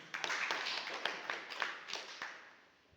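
Scattered clapping from a small audience at a motivational sales seminar, a few brisk claps building briefly then thinning out and fading over a few seconds.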